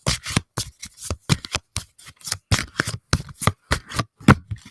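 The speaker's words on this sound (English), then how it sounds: "Okay, so Veronica, I'm going to do a few more shuffles here." Tarot cards are shuffled by hand in a quick series of crisp, riffling bursts and slaps, each lasting a fraction of a second, close and clear with no talking over them.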